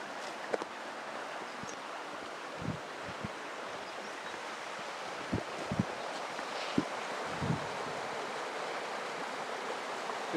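River water rushing steadily over a mill weir, the dam that diverts flow toward a watermill, a continuous broad wash with occasional soft low thumps, no voices.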